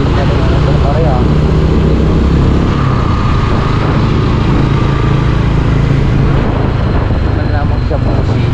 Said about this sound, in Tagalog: Bilis na rin ang motor ah.